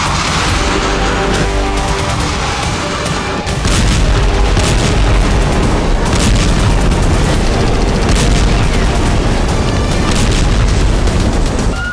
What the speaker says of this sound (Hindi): इस बार इजरायल ने सीरिया में जो धमाके किए हैं